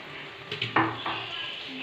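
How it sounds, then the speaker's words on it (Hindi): A utensil stirring tomato sauce into a vegetable mixture with capsicum in a pan, with soft scrapes and a clink of metal against the pan over a faint sizzle. "और इसको मैं मिक्स कर दूंगी अच्छे से।"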